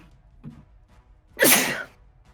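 A single sharp sneeze bursts out close by, loud and brief, after a soft breath, with quiet room sound around it.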